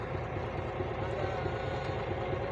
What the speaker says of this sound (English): That is the tractor, alright?